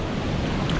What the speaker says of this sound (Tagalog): Ayan falls.